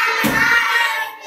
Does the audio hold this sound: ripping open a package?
no